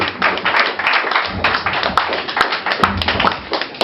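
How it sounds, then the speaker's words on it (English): Steady, dense clapping from a stand-up comedy audience in a New York City club, welcoming a comedian to the stage, a close crowd applauding continuously with scattered louder claps. "Extra claps for this guy"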